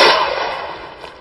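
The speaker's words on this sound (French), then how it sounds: "le pistolet à amorce Kilgore" A vintage Kilgore toy cap pistol fires with one loud, close sharp report that trails off in a fading hiss.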